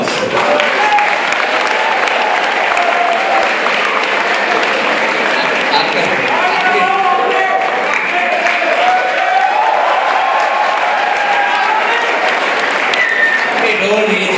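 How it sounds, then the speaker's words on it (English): An audience at a school Shakespeare drama competition applauds steadily and loudly for the whole stretch, a dense continuous wash of clapping with crowd noise mixed in. "I think we need to give him a applause."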